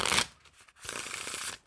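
Two quick riffles of a deck of Dreyfus Art playing cards by Art of Play, a soft papery fluttering burst, then a brief pause before a longer riffle.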